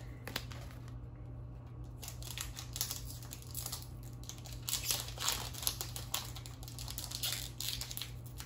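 A tight Dragon Ball Super Card Game premium booster pack is slowly torn open, giving a long series of close, crinkling foil rustles and small tearing crackles over a faint steady hum, with no talking.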